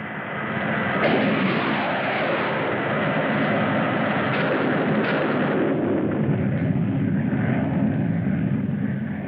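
Repeated energy-weapon blasts from spaceships in an old science fiction space ranger film, loud sustained roaring barrage with sharp bursts layered over a continuous rumbling din, no talking.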